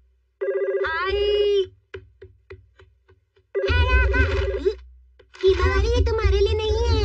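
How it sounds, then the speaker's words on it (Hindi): A home telephone rings in a Shinchan cartoon episode with electronic warbling trills in three bursts, separated by short pauses with faint voices in between. "किसका फोन होगा?"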